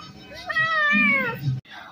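A cat meows once in a drawn-out, rising then falling cry, close and clear, with a faint low rustle underneath and a brief pause before some softer sound resumes.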